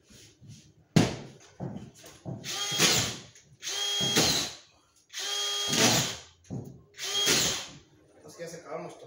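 Power drill driving screws into drywall panels while hanging board on a tall staircase, several short whirring bursts with ratcheting pauses between them, close and loud.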